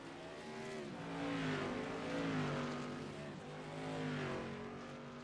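Modified race cars warming up at Stafford Speedway, a steady engine drone that rises and falls as the pack runs down the back straightaway, heard from a distance with faint tire noise.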